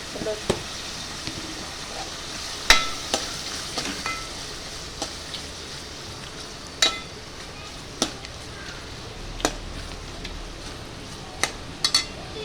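Prawns cook in a pan with a spoonful of turmeric for a green prawn and mango curry, giving a steady low sizzle broken by scattered sharp clicks and scrapes of a spoon against the pan.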